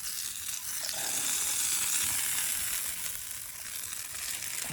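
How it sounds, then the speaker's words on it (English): Halved tomato sizzling over an outdoor bushcraft cooking fire, a steady close frying hiss that swells slightly midway and holds without pause, no voices. "The tomato will just be sliced in 2 even pieces, and then I'll put it on the heat and cook it that way."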